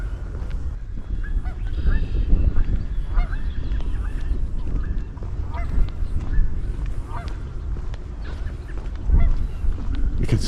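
Geese honk repeatedly over a steady outdoor rumble by a river, some calls close and others more distant, with a louder burst of honking near the end.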